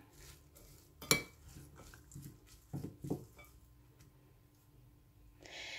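A utensil stirs a green lentil salad in a bowl, giving quiet, scattered clinks and scrapes with one sharper clink near the start.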